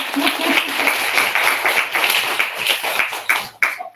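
Audience applause at a Women's Day event in Berlin, a short burst of clapping that thins out and stops after a few seconds.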